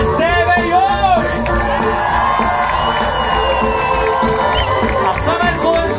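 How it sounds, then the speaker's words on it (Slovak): Large festival crowd at an outdoor city concert in Spišská Nová Ves cheers, whoops and shouts continuously, with children's yells and scattered voices rising over a steady roar of applause. "Poriadne nešetrite aplauzom pre TV Joj!"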